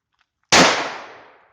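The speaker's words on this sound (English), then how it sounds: "this is gonna be the 45 ACP again at about 5 yards" A single loud, close .45 ACP gunshot fired at a Polish Wz2000 Kevlar helmet from about five yards, a sharp crack that rings out and fades over about a second.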